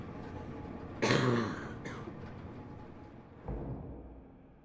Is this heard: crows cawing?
no